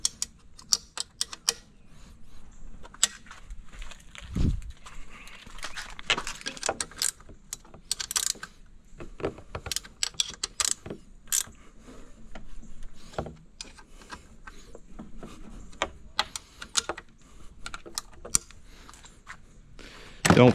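A hand ratchet clicks in rapid, uneven runs while tightening lower unit bolts on a Suzuki outboard motor during a 100-hour service. The clicks are close but fairly soft, with occasional metallic knocks and no speech.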